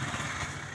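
A motorcycle engine idles steadily as the bike is taken out, a low continuous rumble close by with no talking over it.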